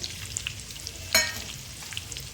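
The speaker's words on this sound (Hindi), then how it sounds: "इन सभी सब्जियों को हम अच्छी तरह से तेल में फ्राई कर लेते हैं" Mixed vegetables frying in hot oil in a pan, a steady close hiss with light crackles and one sharper sizzling burst midway, no talking.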